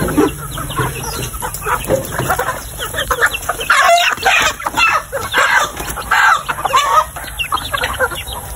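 Native chickens cluck and squawk loudly nearby in an agitated flurry, with overlapping calls and a crowing rooster, over steady outdoor hiss.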